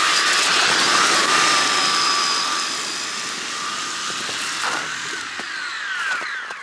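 An ARRMA Big Rock 3S RC truck climbs uphill through snow at three-quarter throttle, its motor giving a steady high whine close by that eases slightly and then surges again.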